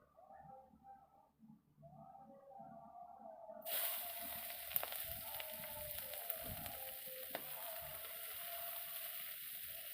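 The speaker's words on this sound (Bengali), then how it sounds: "কড়াইতে তেল, আর একটু হালকা তেল দিয়ে দিয়েছি, ওই তেলের মধ্যে আমি এখন পেঁয়াজ কুচি দিয়ে দেবো" Chopped onion dropped into hot oil in a wok bursts into a steady, close sizzle and frying crackle that carries on evenly after a quiet start.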